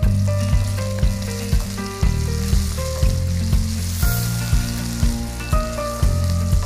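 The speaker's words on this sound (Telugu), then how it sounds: "అందులో ఫస్ట్ వేసుకుంటే ఇది కూడా ఫ్రై అయ్యి చాలా ఫ్లేవర్ఫుల్గా ఉంటుంది." Dried red chillies frying in oil in a large pan, with a continuous loud sizzle broken by regular rhythmic scraping and stirring strokes, close and clear with no talking.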